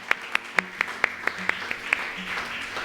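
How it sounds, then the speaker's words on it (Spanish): Scattered claps ring out in a church congregation, a loose series of about nine distinct, fairly sharp hand claps spaced roughly evenly before fading into a quieter murmur. "Démosle un fuerte aplauso al Señor"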